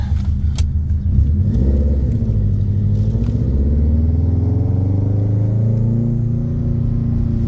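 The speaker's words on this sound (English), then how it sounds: "It's got a nice sound. The exhaust is tuned very well. It's all stainless." A 2004 Subaru WRX STI with a tuned all-stainless exhaust and 6-speed manual accelerates under load, its deep, throaty engine rumble rising and falling steadily as gears pull, close and loud with no talking.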